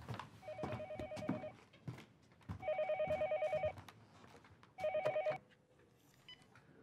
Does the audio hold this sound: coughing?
no